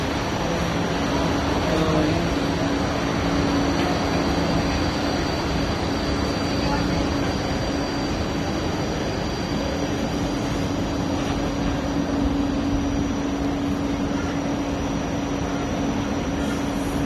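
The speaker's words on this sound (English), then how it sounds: "That's another tram." A tram hums steadily at Helensvale station, with a continuous low drone and faint electrical whine persisting throughout, no talking heard.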